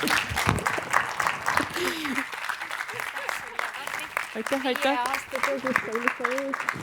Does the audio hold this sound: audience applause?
yes